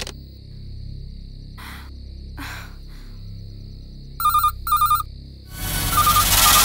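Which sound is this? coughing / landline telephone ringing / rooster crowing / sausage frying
landline telephone ringing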